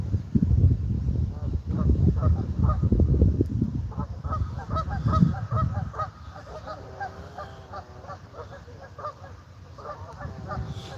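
Honking geese, their calls coming in a steady run of overlapping honks that grow clearer toward the end, after a stretch of low rumbling noise at the start.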